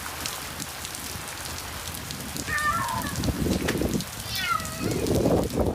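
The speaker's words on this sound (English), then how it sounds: "the yowling sound coming from underneath their parked car was a waterlogged cat taking shelter from Hurricane Milton" A waterlogged cat yowls from beneath a parked car during pounding Hurricane Milton rain, two short rising-falling cries breaking through steady loud rain noise.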